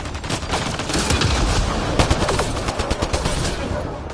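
Dense, continuous automatic gunfire in a Mass Effect: Andromeda firefight, rapid shots blending into a loud, unbroken barrage that holds throughout.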